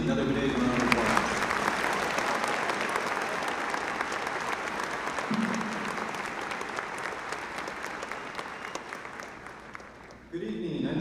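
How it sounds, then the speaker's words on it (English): A graduation audience claps steadily for band and choir performers, a dense, sustained round of applause that fades slightly before a voice begins near the end. "give our band and choir performers another big round of applause"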